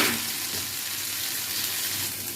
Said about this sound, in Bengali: ওটা কুচি দিয়ে দিলাম, একটু জিরে ফোড়ন দিয়ে দিলাম,